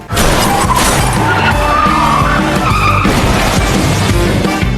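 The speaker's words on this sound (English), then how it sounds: "a nearby car swerved out of control trying to avoid him, causing a massive traffic pileup" Car tires skid and squeal as the car swerves out of control in a traffic pileup, loud and close, with a crash and shattering impact in the middle of the screech.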